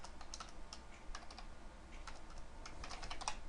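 Rapid, irregular clicking of keys on a computer keyboard, tapped continuously at a close, moderate level with no voices over it.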